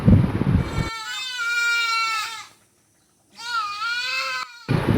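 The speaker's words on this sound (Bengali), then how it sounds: "কাকিমাদের যে ছাগলগুলো ছিল সেগুলো কাকিমারা বিক্রি করে দিল আর ওরা এত চিৎকার করছে" Goats bleat loudly in long, wavering cries, two extended calls separated by a brief pause, with a burst of noise at the start and end.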